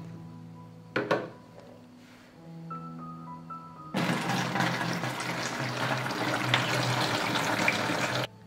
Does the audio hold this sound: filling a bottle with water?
yes